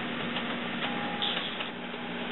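An HP Deskjet printer with a continuous ink system, HP 61 black cartridge, running a cleaning cycle, giving a steady mechanical whir with a faint tonal hum and a brief higher whine midway, heard alone.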